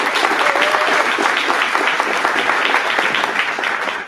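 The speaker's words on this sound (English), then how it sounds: "And yes, round of applause." Dense, loud applause from a luncheon audience at a Women's History Month trailblazer event, steady clapping filling the room throughout and tapering at the very end.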